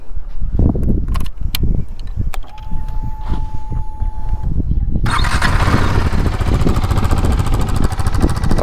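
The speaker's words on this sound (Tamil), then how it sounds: "இந்த விஷயம் எக்ஸாஸ்ட் கேன் எதிர்பார்க்காத விஷயம், நோட்டுமே வந்து பயங்கரமாக இருக்குன்னு சொல்லலாம்." A 2022 KTM RC 390 motorcycle sits close by as its exhaust rumbles. The note steps up sharply partway through and then holds as a loud, steady, rough drone.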